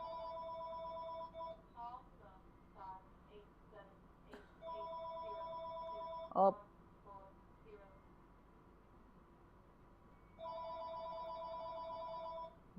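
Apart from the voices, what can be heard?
telephone ringing in a video game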